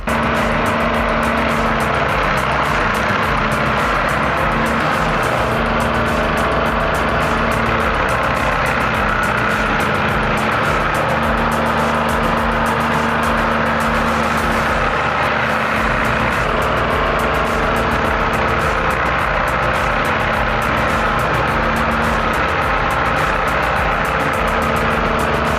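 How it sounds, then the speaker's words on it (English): A Carlton 7015 tracked stump grinder runs with a steady, loud engine drone and low rumble that hold unchanged throughout, with no voices. "The Carlton 7015 is more than a stump grinder, it's a tracked powerhouse."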